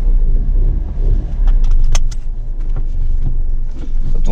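A three-cylinder Toyota Aygo engine running rough gives a close, uneven low rumble that dips and swells, with a few sharp clicks and rattles on top.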